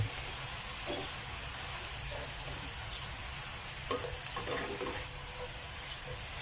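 Shredded cabbage stir-fried in a pan for a vegetarian instant-noodle dish, a faint, steady hiss of frying with scattered soft clicks of stirring, fairly quiet and with no talking.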